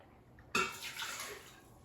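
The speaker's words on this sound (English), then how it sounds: "now I'm going to open the Instant Pot and add 1 cup of water" Water is poured into an Instant Pot for pressure cooking delicata squash, starting suddenly as a soft rushing splash that tapers off within a second or two, faint and close with no voices.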